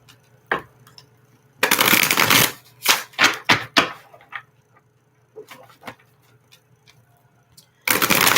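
Lover's Oracle cards being shuffled by hand during a tarot-style reading, loud close bursts of riffling and rapid papery slaps in several separate rounds with short quiet gaps between them.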